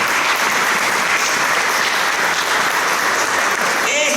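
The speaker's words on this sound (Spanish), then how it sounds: "Dale un aplauso fuerte al Señor." Loud, sustained applause from a large church congregation, dense and steady throughout, tapering slightly at the very end.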